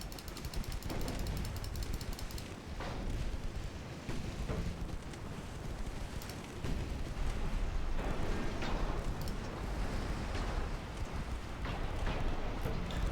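A torpedo strikes a destroyer in a naval warfare game, heard as a dense, continuous low rumble of explosion and churning water that stays loud and steady throughout.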